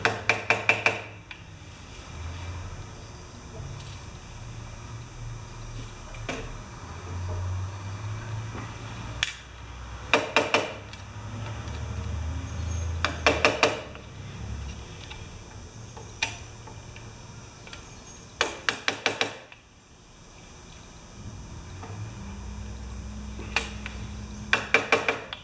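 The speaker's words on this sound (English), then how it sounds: "I just tap them in a little bit with a screwdriver." A screwdriver taps parts into an old Yard Machines lawn mower in clusters of sharp, close metallic ticks, separated by quieter stretches of low rumble and handling noise.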